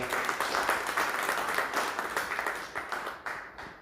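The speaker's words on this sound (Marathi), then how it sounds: "म्हणून एकदा सरांसाठी जोरदार टाळ्या वाजवा" An audience applauds in honour of a respected man at a ceremony, with brisk, sustained clapping that slowly fades toward the end, moderately loud and without any voices.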